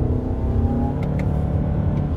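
A 2019 Toyota RAV4 Hybrid SUV in sport mode, heard from inside the cabin as a loud, steady engine drone and road rumble with brief shift blips, and no talking over it.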